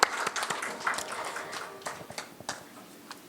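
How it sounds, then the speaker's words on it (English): Scattered applause from the audience at a healthcare awards ceremony, with a fairly thin, uneven patter of claps that rises and dips over a few seconds. "we can still give him a huge round of applause"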